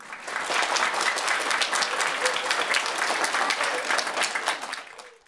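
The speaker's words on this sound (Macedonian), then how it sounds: "Еден аплауз!" Audience applause at a Roma children's music festival, steady and dense clapping from a large crowd that holds for about five seconds before trailing off, with no talking over it.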